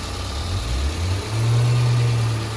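A Toyota Tercel's 5E-FE 16-valve four-cylinder engine runs nearby, a steady low hum that swells into a louder, deeper drone partway through, with no talk.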